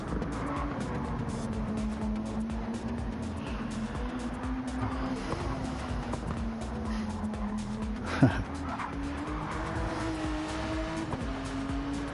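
Race cars idle and rev on the starting grid of a Gran Turismo sim-racing event, a steady engine drone holding for the whole stretch, broken once by a sharp knock or burst near the two-thirds mark.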